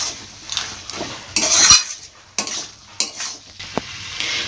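A lid is lifted off a pot of cooked spinach, with sharp metallic clanks and scrapes in several bursts over a soft background hiss.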